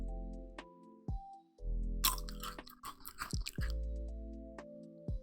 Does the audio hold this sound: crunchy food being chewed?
yes